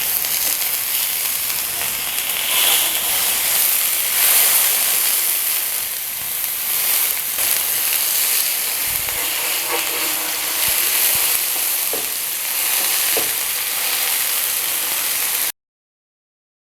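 Minced-meat kebabs fry in ghee in a pan, giving a steady, dense sizzle with crackling throughout at close range. The sizzle stops abruptly near the end.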